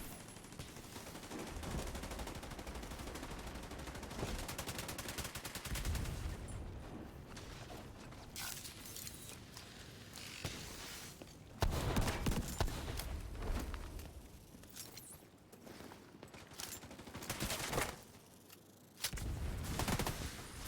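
Rapid automatic fire from a turret and other guns in The Division 2 rattles in long bursts with pauses between, plus mechanical clatter, moderately loud, with brief voices in the mix.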